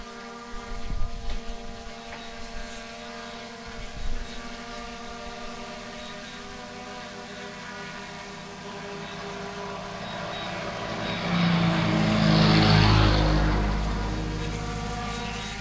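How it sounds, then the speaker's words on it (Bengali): A DJI Mini 4 Pro drone descends and lands outdoors in Dubai. Its propeller buzz hums faintly at first, with a few bumps, then swells into a louder whine near the end of the descent. "নেমে গেল, এয়ারক্রাফট ল্যান্ড করে গেল।"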